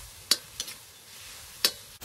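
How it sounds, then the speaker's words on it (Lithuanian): Saffron milk cap and field mushrooms fry with bell pepper in a pan, giving a steady soft sizzle broken by a few sharp clicks of a stirring utensil. "Na štai kaip čia kepa viskas."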